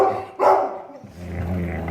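A dog guarding its food, giving a sharp close bark-like burst followed by a low rumbling growl that continues steadily, loud and near, with no talking.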